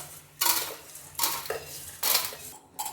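Fried curry leaves scraped out of a kadai onto a plate with a spoon, four close, bright bursts of metal-on-metal scraping and clatter in a steady rhythm.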